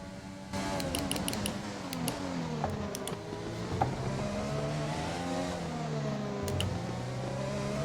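F1 2020 race car engine in a video game, loud and continuous, revving up and down through gear changes with rising and falling pitch as the car rolls through a corner, with occasional sharp clicks on top.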